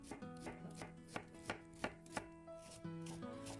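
Knife slicing onion on a cutting board, a steady series of sharp chops about every third of a second, clear and close over quiet background music.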